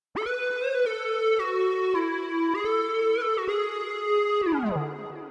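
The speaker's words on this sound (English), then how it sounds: "This particular sound is called Smooth Square." A Smooth Square synth lead from the Expand instrument in Pro Tools plays a bright, sustained melodic line with gliding pitch bends, loud and alone, ending in a downward slide before fading.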